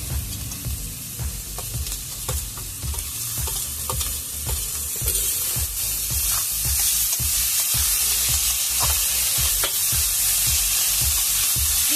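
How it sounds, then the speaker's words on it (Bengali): Tomato frying in a pan with oil for egg tadka gives a steady, loud sizzle throughout, with regular stirring scrapes beating through it and no talking. "এটাকে ভালো করে ভাজতে হবে যতক্ষণ না টমেটোটা মিশে যাচ্ছে।"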